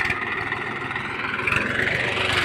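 A tractor engine runs steadily on a farm in a Rajasthan village, a loud, continuous close-up mechanical drone with a pulsing low rumble and a slight rise in pitch toward the end, with no talk.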